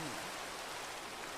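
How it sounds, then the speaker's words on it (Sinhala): Steady rain falls in a video game world, a soft, even hiss of broadband noise holding at a constant low level through the short stretch with no other sounds standing out. "ඒක දැන් මේ වැස්ස හරිනම් නවතින්නේ"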